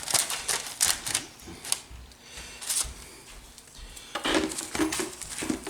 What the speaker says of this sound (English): Pour into this little basket here.